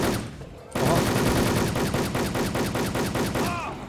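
Rapid automatic gunfire in a shooter video game, a long loud burst of close, evenly spaced shots after a brief quieter moment, with faint metallic pings near the end.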